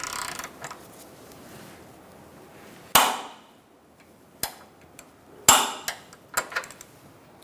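A torque wrench tightens a lower control arm bolt to 61 foot-pounds on a 2002-2006 Honda CR-V, giving a few sharp, close metallic clicks and taps separated by quiet pauses.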